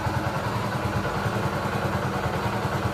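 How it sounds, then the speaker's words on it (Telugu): A TVS XL100 moped engine runs steadily just after being fitted, a close, even, pattering idle with a light mechanical clatter and no talk over it. "ఇనండి ఇంజన్ సౌండ్ అయితే ఇనండి"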